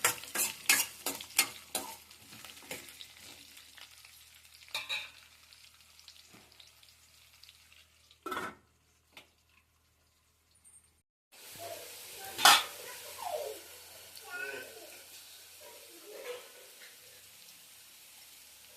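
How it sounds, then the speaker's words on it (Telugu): Bitter gourd pieces stir-fried on high heat in a pan for a pachhi mirchi curry, with a dense early burst of scraping stirring strokes, a short quiet gap, then a steady sizzle broken by louder spatula clacks, with no speech. "కాకరకాయలు తిప్పుకొని ఒక 5 మినిట్స్ హైలో ఫ్రై చేసుకోవాలి"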